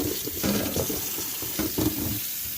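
Running tap water pours into a kitchen sink as vegetables are rinsed under it, a steady close splashing stream with slight shifts as the food is moved through the flow.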